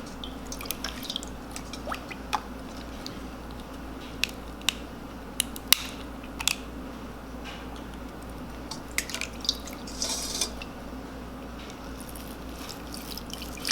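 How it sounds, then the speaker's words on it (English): A scrub brush is dipped into a bowl of warm water while cleaning a Red Wing boot sole, heard as soft drips, splashes and small clicks scattered irregularly over a low steady background, close but quiet. "Applying the soap, and then putting it back into the bowl of water"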